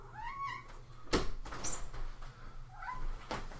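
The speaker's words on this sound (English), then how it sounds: "that is my very vocal cat who just doesn't like to be kept out of any room" A vocal house cat meows in short rising calls near a desk indoors, a few separate cries spread across the moment with a bump or door knock between them.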